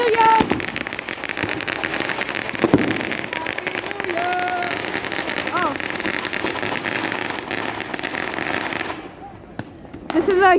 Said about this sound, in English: This is a huge firework we are all doing together.